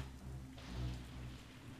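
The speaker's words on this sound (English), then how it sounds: "Ah, this dratted rain." Rain falls quietly in The Hobbit (2003) video game, a faint, soft hiss over a low steady hum with no voices.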